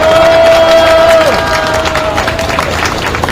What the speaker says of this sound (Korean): 우리 경남도당 동지들께 박수 한번 드립시다